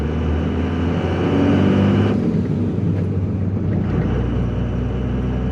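A Cummins-powered truck, freshly swapped to a manual transmission, drives along with a steady, loud engine drone and low rumble throughout, a brief swell in the middle, with no talking.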